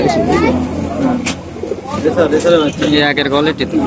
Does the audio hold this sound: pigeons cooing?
yes